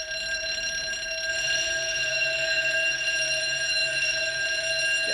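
Building fire drill alarm ringing continuously at a steady pitch, a constant electronic tone sounding alone, slightly distant and without interruption.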